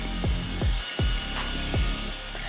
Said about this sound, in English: sand down both sides of the plate with a wire wheel attachment on my power drill